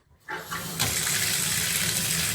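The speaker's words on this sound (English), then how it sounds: "Cold water will run, and if I go all the way to hot water, you have nothing anymore." Water bursts from a failing Moen bathtub faucet cartridge after a brief silence, rising quickly to a steady, loud gushing stream that runs to the end.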